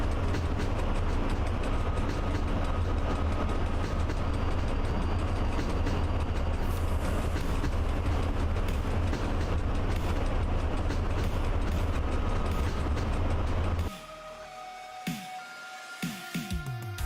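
Locomotive running in the train simulator game Train Driver 2, a steady loud rumble of motor and rail noise with clanking mechanisms, then the drone drops away near the end leaving quieter clicks and rattles.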